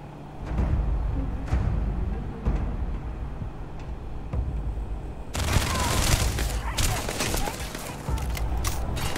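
Rapid bursts of futuristic weapon fire from a newly picked-up gun in the space game Starfield, loud and dense volleys that break out over steady game ambience with no talking.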